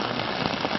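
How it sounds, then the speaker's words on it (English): Heavy rain pours steadily during a thunderstorm in the Georgia mountains along the Appalachian Trail, a dense, constant hiss close by with no gaps and no voices. "there's lightning, there's blowing, raining hard."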